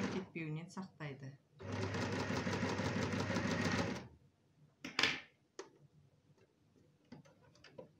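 Close sewing machine stitching a collar seam in one steady rapid mechanical run of about two and a half seconds, a person speaking before and after, then a few quiet clicks and handling noises.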